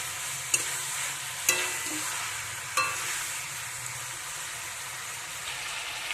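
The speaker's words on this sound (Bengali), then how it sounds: "এই অবস্থায় এবার ক্যাপসিকামটাও দিয়ে একটু ভালোভাবে নাড়াচাড়া করে নেব" Chicken, capsicum, butter and onion sizzle faintly in a pan for a winter vegetable chicken stew, with a few sharp clinks of a spoon stirring against the vessel.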